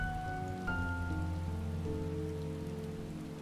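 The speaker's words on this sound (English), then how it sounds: "it's raining in game" Steady rain falls in the Final Fantasy XIV video game, a soft even patter that runs continuously alongside sustained tonal game music.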